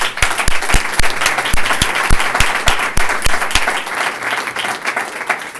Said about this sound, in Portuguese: agradecérselo con un cálido aplauso